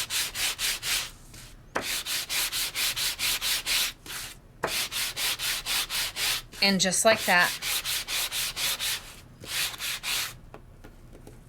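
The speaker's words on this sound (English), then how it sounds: "I can bring over one of the new Sizzix sanding blocks." Rapid rhythmic rasping of a Sizzix sanding block over embossed paper in bursts of even strokes with short pauses; a voice speaks briefly midway.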